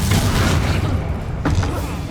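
Incendio fire spell cast in the video game Hogwarts Legacy: a heavy booming whoosh of flame that rumbles loudly throughout, with a couple of sharper bursts near the end.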